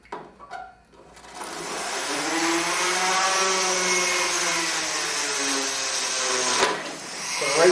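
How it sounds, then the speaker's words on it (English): A power drill whines steadily into metal on a passenger car build for several seconds, a sustained high buzzing grind that stops abruptly, with a few brief knocks before it starts. "I'll drill a hole and do one for you."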